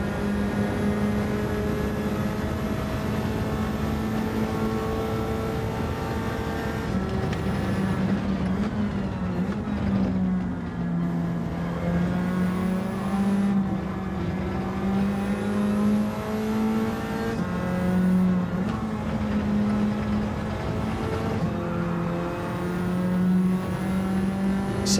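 Race car engines roar in Gran Turismo 7 during an online lobby race, a loud continuous drone whose pitch climbs and drops through repeated gear changes, with other cars close by.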